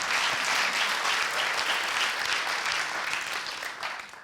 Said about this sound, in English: Applause for Jill.